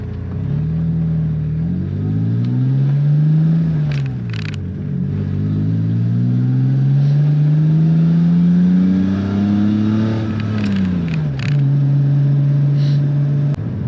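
A 1992 BMW 535i E34 with a manual gearbox revs and pulls through the gears, pitch rising and dropping with each shift, loud and close, steady throughout.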